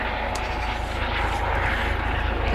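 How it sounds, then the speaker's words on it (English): An aircraft drones steadily overhead while someone sits outdoors on bare stone, a continuous broad engine rumble that holds an even loudness for the whole stretch with no voices over it. "freaking stupid helicopter. Probably just hovering up over me"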